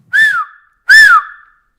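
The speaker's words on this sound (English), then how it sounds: "Then he waves a flag and blows his whistle." A train conductor's whistle gives two shrill blasts, each briefly rising and then falling in pitch, separated by a short gap, loud and close with no talking.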